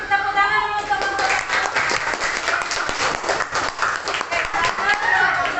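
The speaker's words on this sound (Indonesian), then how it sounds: "kasih tepuk tangan dulu untuk kelompok" Classroom applause from students for a presenting group, a brisk burst of many hands clapping together, fairly loud and close, with a teacher's voice speaking over the start.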